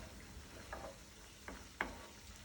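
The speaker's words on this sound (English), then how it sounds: "I'm going to let that cook on a pretty high heat for about 10 or 12 minutes because I really want it to get thick" Penne alla vodka tomato sauce cooks on high heat in a pan, a steady low bubbling sizzle with a few soft stirring scrapes and taps, close but quiet.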